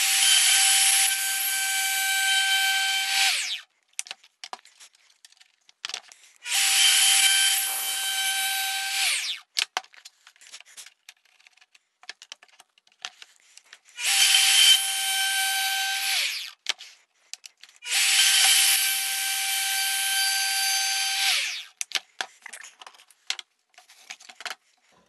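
A router in a homemade jig cuts a slot through wood in four loud, close bursts of high-pitched whining, each a few seconds long, separated by quiet gaps filled with small clicks and handling noises.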